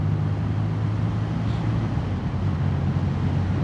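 A BMW R12 nineT motorcycle cruising on an autumn ride, its engine a steady low drone mixed with wind rush, continuous and close with no breaks.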